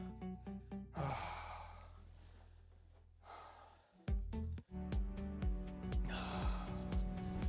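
During a guided breathwork session, a person lets out a long, audible exhale that fades gradually, framed by sustained tonal music before and after.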